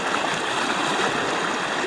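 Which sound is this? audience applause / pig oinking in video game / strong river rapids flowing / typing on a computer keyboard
strong river rapids flowing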